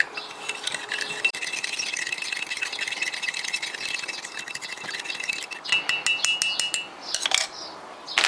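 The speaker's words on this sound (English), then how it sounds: "Let's give it a stir" A spoon stirs pink drink mix from a Russian special forces ration into 200 ml of cold water, giving a continuous scraping and rattling against the container, with sharper clinks toward the end.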